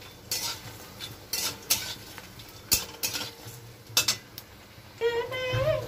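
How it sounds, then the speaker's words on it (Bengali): Bori lentil dumplings fry in a pan after spices are tempered, with repeated sharp metal clinks and scrapes of stirring over a light sizzle, then a brief higher tonal sound near the end. "আমি দিয়ে দিলাম বড়িটা একটু লাল লাল করে ভাজবো"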